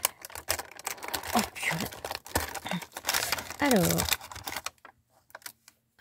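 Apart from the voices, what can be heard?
tearing open an advent calendar door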